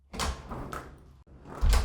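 A door opens and then closes, with two muffled thuds and a swish between them, heard close with no talk, used as a sound effect in a cinematic ski commercial.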